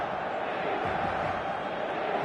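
A large crowd of football supporters on match day, turned out in huge numbers, producing a dense, continuous roar that holds steady throughout without distinct cheers standing out.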